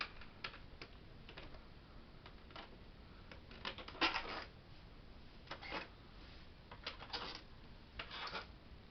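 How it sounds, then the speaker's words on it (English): Small screws being pulled from a PS3 console with a magnet: quiet scattered clicks and light metallic ticks close by, irregular taps clustering in a few bursts against a faint background hiss, with no talk. "So now I'm going to take my magnet and just pull them out."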